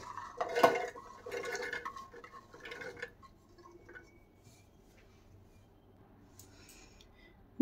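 Washed green peas tipped into a steel mixer grinder jar, a cluster of clattering, rattling knocks up close over the first three seconds, then fading to faint scattered clinks and near quiet.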